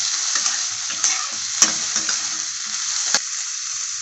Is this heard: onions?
yes